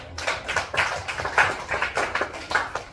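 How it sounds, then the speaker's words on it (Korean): Applause at a church summer youth retreat revival service: an uneven round of hand clapping from a small crowd, lasting a few seconds at moderate volume. "박수해 주세요."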